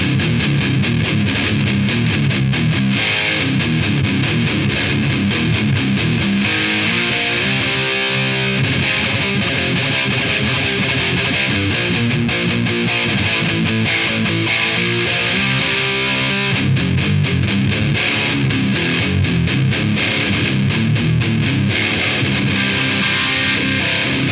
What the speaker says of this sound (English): yeah, that's pretty cool. Yeah, I don't mind that distortion.